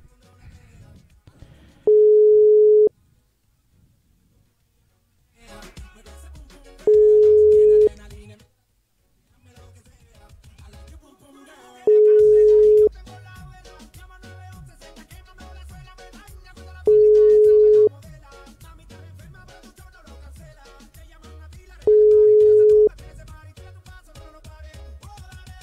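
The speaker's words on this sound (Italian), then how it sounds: "Contattiamo il dottor Venneri. Vediamo un po' se ci siamo tramite WhatsApp" WhatsApp video call ringing tone, five identical steady beeps repeating about every five seconds, loud and clear, with talk and studio sound between and around the tones.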